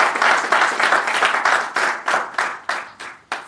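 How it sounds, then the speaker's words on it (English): An audience at a book launch claps for contributing playwrights, a brief burst of applause that thins into a few separate, evenly spaced hand claps. "let us first clap hands for all the contributing playwrights"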